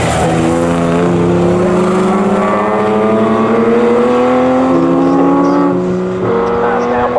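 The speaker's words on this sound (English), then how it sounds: "Bernardo Hartogs at the wheel of the somewhat diminutive Lotus goes through" A Lotus historic racing car in a pre-1963 race at Snetterton goes past with a loud, steady engine drone whose pitch sweeps upward and then drops slightly, while a commentator talks over it.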